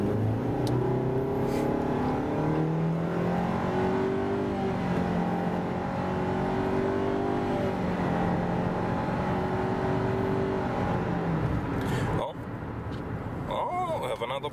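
A 2020 Nissan Rogue accelerating hard from a standstill to sixty, its engine note rising steadily in pitch through repeated upshifts, heard loud and close from inside the cabin with a brief cut near the end.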